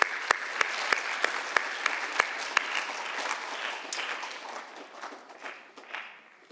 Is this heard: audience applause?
yes